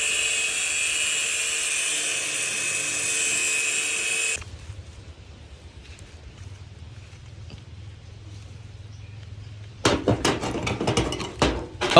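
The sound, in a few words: scraping a long metal shaft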